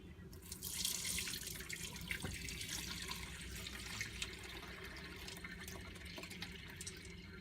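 A kitchen tap runs steadily into a sink while split peas are washed by hand for soup, a continuous splashing rush with brief stirring shifts and no talking.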